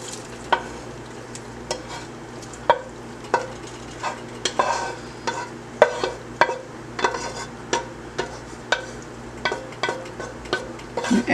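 Stuffing ingredients going into boiling chicken stock for Thanksgiving stuffing, heard as a steady low simmer broken by a regular series of sharp spoon scrapes and clacks against the pot.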